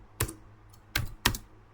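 Three separate keystrokes on a computer keyboard, crisp and close, in an otherwise quiet room with a slight pause between the first and last two taps.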